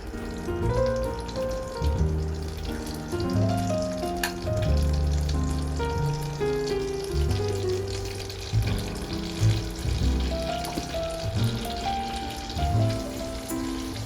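Salmon patties fry in butter in a pan with a steady sizzle, while soft clinks and scraping of a spoon come and go nearby, and no one speaks.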